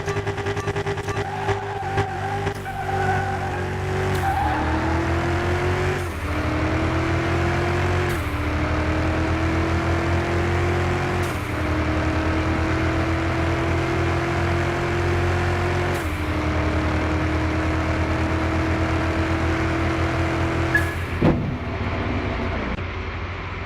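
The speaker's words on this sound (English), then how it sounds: "I'm going to go full revs on this one" A car engine in a Car Mechanic Simulator 2021 drag race revs at full throttle, climbing in pitch through several gear shifts with sharp breaks between them over about twenty seconds, loud and alone.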